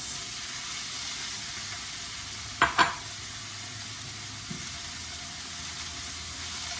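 Quinoa and navy beans being mixed in a hot pan, a soft continuous sizzle with two quick clattering scrapes of the utensil and a faint later tap.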